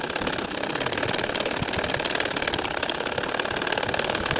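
A sewing machine stitches a nakshi kantha quilt with a steady, fast mechanical chatter that runs unbroken and close by, with no talk over it.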